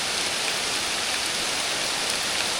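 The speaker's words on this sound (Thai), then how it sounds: "ฝนตกแล้วทุกคนบัดนี้" Steady, dense rainfall outdoors on a trip with a hunter, a constant close hiss of drops on surfaces with no pauses or voices.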